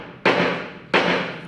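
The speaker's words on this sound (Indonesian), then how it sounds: "sidang akan dimulai setelah ketukan palu" Two sharp wooden gavel knocks about 0.7 seconds apart open a land acquisition court hearing, each one loud and close with a brief decaying ring.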